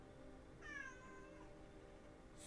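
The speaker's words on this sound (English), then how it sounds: "cats, please don't cry the whole time." A house cat gives a single drawn-out meow, moderately close, rising and falling over about a second against a quiet room hum.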